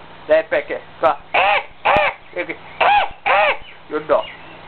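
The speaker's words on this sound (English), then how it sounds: "You hear birds?" Birds on a veranda give a run of loud, harsh, crow-like calls close by, about a dozen in quick irregular succession.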